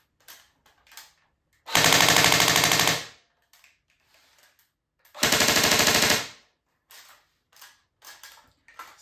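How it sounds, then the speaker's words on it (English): A Tokyo Marui G3SG1 airsoft gun fires fully automatic in two loud, close bursts of about a second each, with a fast rattling rate of fire. Quiet handling clicks fall between and after the bursts. "Then fully automatic."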